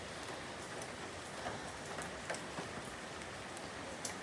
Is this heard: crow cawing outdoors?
no